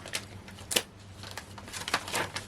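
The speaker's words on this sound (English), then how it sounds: "Sorry, I know they're making an annoying rustling sound." Small plastic packets of card craft embellishments such as gems being handled and rustled at a crafting table, a few close, sharp crinkles and crackles scattered irregularly over a couple of seconds with quiet handling between.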